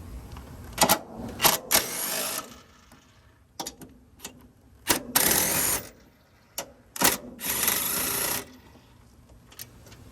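A ratchet with a 16mm socket backs out motor mount bolts on a 2008–2013 Nissan Rogue, giving sharp clicking bursts in several separate runs, some short and others drawn out, close by with quiet gaps between them.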